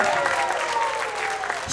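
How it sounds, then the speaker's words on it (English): An audience at a school music event applauds for an adjudicator, with dense steady clapping from a crowd and voices mixed in. "Clap for Vicky."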